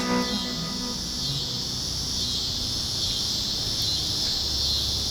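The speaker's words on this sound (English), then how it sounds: "Cicada song." Cicadas sing in a dense, continuous high-pitched buzz that fills the air, steady and unbroken, with no voices, in August in Nebraska.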